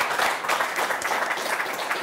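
Steady applause from a television sports studio audience, moderately loud and continuous with no pauses.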